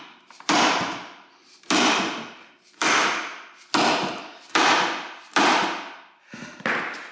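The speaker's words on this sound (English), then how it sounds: "Getting these on there sometimes, I just get a good whack." Solid steering rack bushings for an MK4 Supra are driven into place with a hammer: six hard, close metallic whacks at a steady pace about a second apart, each ringing out briefly before the next blow.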